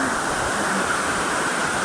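Waterfall at Edith Falls, a steady broadband rush of falling water, loud and close, with no gaps or other sounds.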